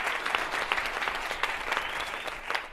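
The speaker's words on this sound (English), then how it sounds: "Clap it up for them" A tech-talk audience gives brief, moderate applause for the event organisers, scattered distinct claps blending into a soft steady patter at a slight distance.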